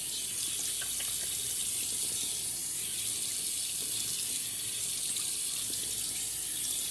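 Water runs steadily from a bathroom tap during a wet shave, a constant close hiss and splash at an even level throughout, with no voices.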